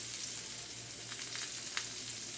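Salmon fillet sears skin-side down in a hot frying pan for a honey lemon garlic dish, giving a steady close sizzle with a few brief crackles and no voices.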